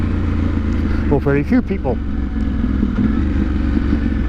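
A motorcycle ridden slowly along winter roads, its engine a steady mid-pitched drone throughout while a person talks over it.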